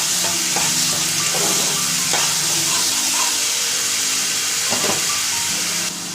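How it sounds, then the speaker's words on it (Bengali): Ginger garlic paste frying in a pan for a katla fish curry: a loud, steady close sizzle and hiss with a few scraping stirs scattered through. "এক চামচ আদা রসুন পেস্ট, এটা দিয়ে আমি ভালো করে কষিয়ে নেব"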